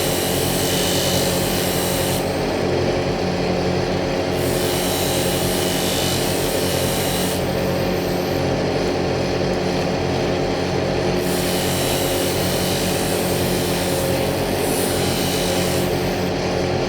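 A power tool shaving an egg-shaped prayer bead gives a loud, continuous motor whine and grinding hum, with the high rasp of cutting coming and going in several bursts as the tool meets the bead.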